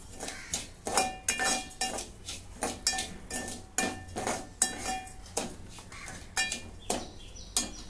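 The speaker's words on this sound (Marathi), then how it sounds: "आता वरई आपली भाजत आहे" A spoon rhythmically scrapes and clinks against a pan while barnyard millet (varai) dry-roasts in ghee, with steady, close, metallic strokes repeating throughout and no talking.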